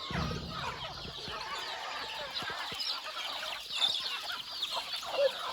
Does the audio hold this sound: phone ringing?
no